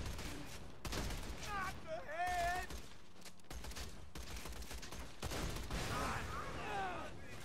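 Gunfire from a shotgun in the video game Borderlands 2, several loud blasts and bursts of firing amid game effects and sweeping tones, with a voice talking over parts of it.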